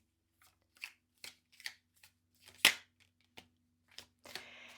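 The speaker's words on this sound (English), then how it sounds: "Don't make me shuffle all day." Playing cards are shuffled and riffled in a series of short, crisp bursts with quiet pauses between, close and fairly soft.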